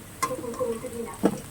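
Potatoes frying in oil in a wok, with a soft sizzle and a couple of distinct scraping stirs of a spatula against the pan, close and fairly quiet.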